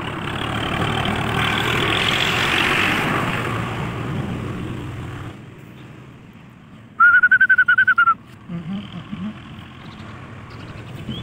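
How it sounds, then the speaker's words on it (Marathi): A tractor hauling soil drives back and forth, its engine a steady broadband rumble through the first half before dropping away, followed by a brief high whistle-like tone and a few softer sounds. "हे मातीचं ट्रॅक्टर चालू इकडून तिकडे तिकडून इकडे"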